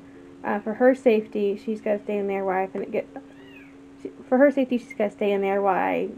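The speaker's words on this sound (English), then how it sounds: "sorry if you hear a kitten in the background." Someone talks in a quiet room while a kitten meows nearby, with a rising, plaintive cry near the end.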